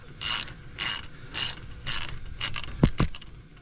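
A ratchet socket wrench turning a 22 mm socket, four crisp bursts of rapid clicking at a steady rhythm, close up, followed by a couple of quick metallic knocks.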